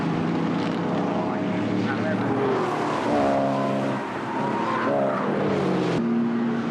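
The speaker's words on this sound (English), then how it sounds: "Number 8 coming through here, Tim Bryan, having a battle towards the tail" Racing cars during a British motor race roar past with rising and falling engine tones, one after another at close range, while a commentator talks over the noise.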